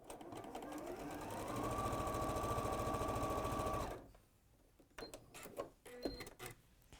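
A domestic sewing machine runs steadily, stitching a 1/4 inch seam down a straight fabric edge in a quilting demonstration. The close, even motor whir holds for about four seconds and then stops, followed by quieter handling sounds.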